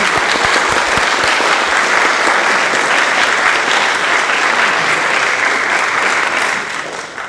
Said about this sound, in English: I would like to ask for a round of applause for Eva.